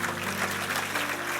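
A church congregation claps together in steady, sustained applause, a dense wash of hands heard from a slight distance with no voices over it.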